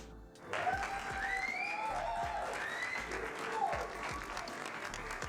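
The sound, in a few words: round of applause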